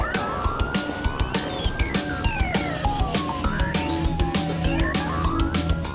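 A British police car's 130-decibel siren wails and sweeps up and down in pitch amid busy traffic noise, with sharp repeated clicks and road rumble beneath it.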